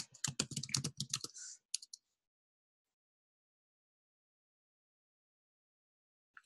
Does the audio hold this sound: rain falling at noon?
no